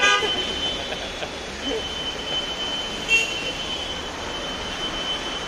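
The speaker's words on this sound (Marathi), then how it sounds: "बघा पूर्णपणे ट्रॅफिक जाम आहे" Jammed traffic on a waterlogged, potholed road: a sustained horn blares at the start over a continuous wash of vehicle engines and road noise, with another short honk around the middle.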